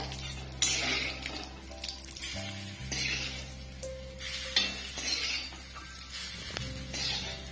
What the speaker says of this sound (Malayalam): അതിലേക്ക് നമുക്ക് ഈ കരിയപ്പിൻ്റെ ഇല ഇട്ട് കൊടുക്കാം